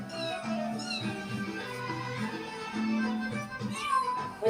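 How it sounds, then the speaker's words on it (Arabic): Pet cat meowing in a family home, several plaintive mews rising and falling over background chatter and household noise, moderately close. "قطة"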